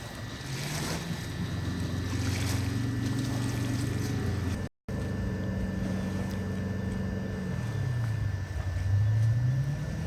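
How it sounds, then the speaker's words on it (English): A boat engine drones faintly in the distance, its pitch slowly falling and rising, beneath steady wind and surf noise. "it's a boat way in the distance there"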